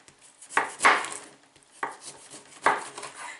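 A knife chops a lemon into small pieces on a board, giving a few sharp, separate cutting knocks spaced apart, close and clear with quiet gaps between strokes.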